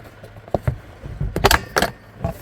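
A few plastic clicks and snaps sound as a plug is pulled from the back of a component on a 2025 Ford F600 truck, close and sharp, with light handling rattles between them.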